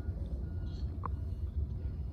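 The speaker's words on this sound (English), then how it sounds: "Yeah, you hear the truck backing up." A truck backs up with a low engine rumble and a single short reversing beep, heard from a moderate distance.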